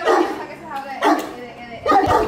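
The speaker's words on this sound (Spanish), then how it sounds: "Aquí hay más perros, señores." Several dogs bark in three short bursts, mixed with yips, close by outdoors while people talk over them.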